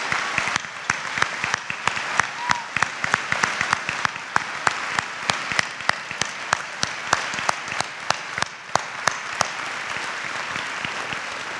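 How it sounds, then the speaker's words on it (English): Sustained, thunderous applause from an audience honoring Vietnam War veterans at a high school Veterans Day ceremony, dense steady clapping with sharp individual claps standing out, continuing throughout. "Let's give them a thunderous round of applause."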